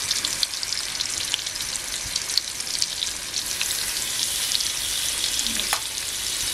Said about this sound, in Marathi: लसूण आहे ना थोडीशी लालसर करून घ्यायची आणि त्याच्यानंतर मग मच्छी फ्राय करायची